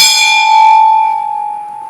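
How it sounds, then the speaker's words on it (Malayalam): A single strike on a large old panchaloha bell gives a bright, clear metallic tone that rings on and fades slowly, leaving a long, steady hum. "ഈ മണിയിൽ നിന്ന് നമ്മൾ മണി അടിക്കുമ്പോൾ സപ്തസ്വരങ്ങൾ ഇങ്ങനെ വരും"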